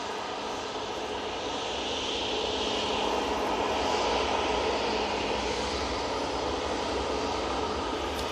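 Jet2 airliner jet engines roar at Manchester Airport, a loud broad steady rumble and whine holding evenly throughout with no talking.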